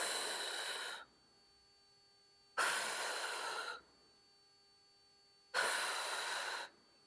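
Long, audible breaths during a clamshell exercise, three drawn-out exhales about three seconds apart with quiet pauses between, close and fairly soft.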